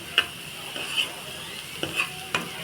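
Tadka for saag sizzling in a pan without tomatoes, a continuous hiss punctuated by several crisp clinks and scrapes of a spoon stirring against the metal.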